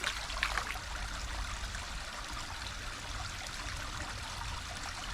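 Steady running water pours and trickles continuously while an antique glass bottle from an old bottle dump is washed, a close, even rush with a few small clinks near the start.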